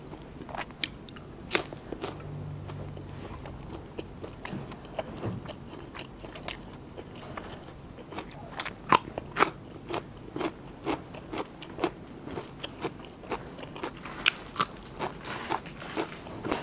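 Fermented pork wrapped in banana leaf is eaten with fresh chili and pickled garlic, giving repeated close crunchy bites and chewing in an irregular rhythm, without talk.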